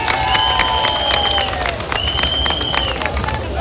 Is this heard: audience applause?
yes